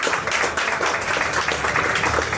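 An audience claps for Chef Gaurav Lavanya as he is called up on stage at a culinary and patisserie academy's tenth-anniversary event, a continuous, fairly loud wash of clapping throughout.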